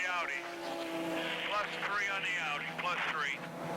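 Porsche race cars of the 2006 American Le Mans Series at Mid Ohio accelerating after a green flag restart; several engine notes rise and fall in repeated sweeping waves, loud and continuous, with a voice running over them.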